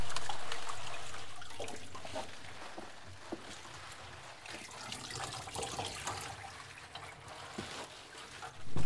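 Harvested fall garden greens swished around in a basin of water to rinse off grit, giving a soft continuous sloshing and trickling with scattered small splashes, fairly quiet and close, then a louder surge of water at the very end.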